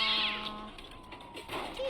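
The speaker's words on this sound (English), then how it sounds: "Kitty. That was noisy." A cat meows in a horror video game: one drawn-out, fairly loud meow, then fainter game sounds and a short high chirp.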